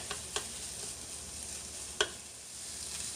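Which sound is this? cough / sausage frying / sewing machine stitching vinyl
sausage frying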